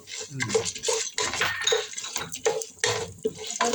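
Peanuts and lentils go into a hot pan while lemon rice is cooked, with a quick rattle and clink of metal on the pan and a steady sizzle underneath, close and fairly loud.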